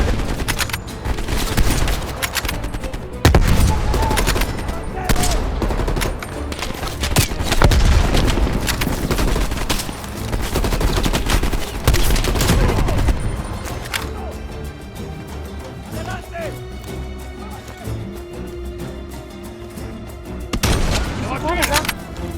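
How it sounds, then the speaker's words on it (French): Dense bursts of automatic gunfire in Call of Duty Cold War campaign combat, loud and close, with rapid rattling volleys and heavy booms overlapping, then thinning toward the end while voices talk under the shooting. "Des rafales, Lazare."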